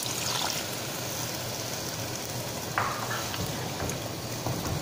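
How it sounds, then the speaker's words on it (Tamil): Water poured into a pan of brinjal kara kuzhambu after frying with chilli powder, a running trickle over a soft sizzle, close and continuous with a brief splash midway. "நம்ம தேவையான அளவுக்கு தண்ணி போட்டுக்கலாம்."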